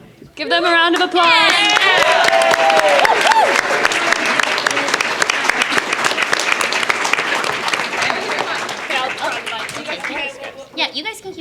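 Sustained loud audience applause at a BronyCon 2017 voice acting fan convention panel, a dense crowd of clapping with some cheering that fills the room for about ten seconds before tapering off, with a few voices near the end.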